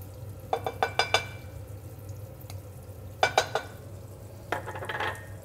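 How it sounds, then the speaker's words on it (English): Butter sizzles softly in a hot pan on medium-high heat, under clusters of sharp metal and glass clinks from utensils against the pan. "I'm gonna get some butter in the pan."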